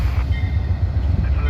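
An Amtrak passenger train, Train 29 heading west for Toledo, rumbles steadily along the rails, heard from inside as a loud, continuous low drone with faint rhythmic movement.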